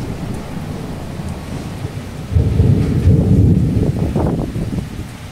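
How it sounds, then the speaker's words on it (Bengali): Along the Marine Drive road to Mandarmani, a thunderstorm brings a deep rolling rumble of thunder that swells partway through over a steady wash of heavy rain and wind, loud and close, with no one speaking. "ব্যাপক ঝড় বৃষ্টির সঙ্গে মেঘ ডাকছে।"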